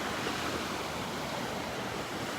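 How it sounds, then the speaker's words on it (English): Small ocean waves stirred up by a tropical storm wash steadily onto the beach at Delnor-Wiggins, a continuous, even, hissing surf roar with faint wind rumble and no voices. "Enjoying the symphony of the sea, listening to the waves."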